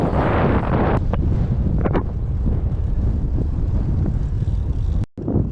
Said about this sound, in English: We decided to go straight into the wind.